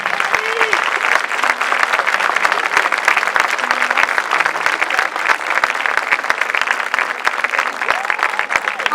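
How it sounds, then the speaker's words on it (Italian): Large crowd applauding in a Milan square at a celebration for Olympic champion cyclist Francesco Lamon, steady dense clapping with cheers throughout, loud and sustained. "io vorrei che per il nostro Beniamino facessimo sentire il primo applauso forte di Milano"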